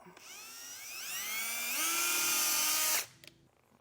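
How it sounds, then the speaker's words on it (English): Power drill boring a hole with a 3/8 inch bit during base plate installation on a 2024 Ford Maverick, a loud whine that climbs in pitch, holds steady at full speed, then cuts off sharply, followed by faint clicks. "we're going to be taking a 3/8 drill bit and drilling that out"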